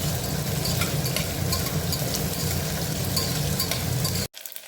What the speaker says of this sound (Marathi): यात बटाटे टाकलेले आहेत, बघू शकता. छान परतून घ्यायचे हे.